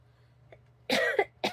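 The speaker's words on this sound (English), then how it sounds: "We had a coughing fit." A few sharp coughs burst out close to the mic after a brief quiet stretch with a small throat sound, the coughs loud and raspy.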